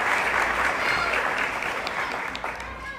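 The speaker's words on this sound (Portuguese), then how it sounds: "Vamos acolher com uma salva de palmas a todos que vieram" A church or parish gathering breaks into welcoming applause, a thick, continuous roar of many hands clapping at close range, holding steady for the whole stretch.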